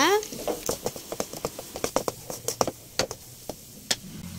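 Masala sautéed in a pan for egg rice gives off irregular close sizzles and sharp scraping taps as it is stirred, scattered unevenly over a quiet background.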